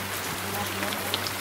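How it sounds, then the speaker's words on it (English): Steady rain in Wyoming hissing on surfaces nearby, with scattered drops pattering, continuous and moderately loud. "It's been raining on us."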